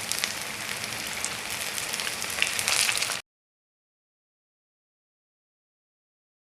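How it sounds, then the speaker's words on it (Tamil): Baby potatoes frying in oil in a pan for Cajun potatoes, a steady close sizzle and crackle that cuts off after about three seconds, leaving silence. "இப்போ 2 சைடும் நல்லா ஃப்ரை ஆகிடுச்சு."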